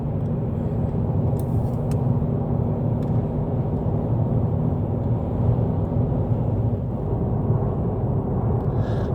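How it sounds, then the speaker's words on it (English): Continuous low rumble of car traffic on a busy road near Atlanta, heard from inside a moving vehicle as a steady, loud drone with faint passing swells and no talking. "The other side is packed with cars."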